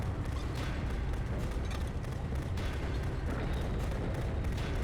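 Steady, muffled gunfire from a gun in The Beginner's Guide, a dense rumbling barrage that continues evenly and fairly quietly throughout without pauses.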